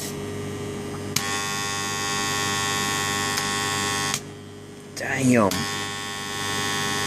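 A big high current transformer gives a loud, steady buzzing mains hum with rich harmonics, cutting in and out as it is switched, with a brief spoken exclamation during a pause.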